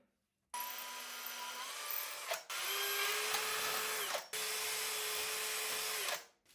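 A power drill bores into hard rock in three sustained bursts, each a loud steady whine lasting a couple of seconds with brief pauses between, while an off-grid bedroom is fitted out with shelves.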